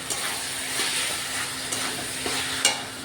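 Spiced masala frying in oil with whisked sour yogurt added, a steady broad sizzle with a few brief stirring scrapes, close and fairly loud, no voices.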